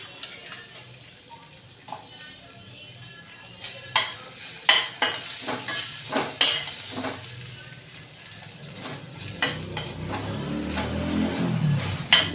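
Red chillies, cumin and ginger pieces fry in hot oil for a ginger chutney, with a steady sizzle, clinks and scrapes of a spoon stirring, and a louder crackling burst near the end.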